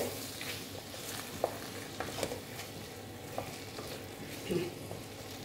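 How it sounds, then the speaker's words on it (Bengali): Potatoes for aloo dum being sautéed and stirred in a pan, a soft steady sizzle with occasional light scrapes and clinks of the spoon, fairly quiet and close. "আর একটু কষিয়ে নিচ্ছি।"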